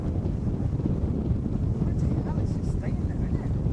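Steady wind buffets an outdoor microphone on the open East Yorkshire Wolds, a dense low rumble that never lets up, with faint higher tones drifting through late on.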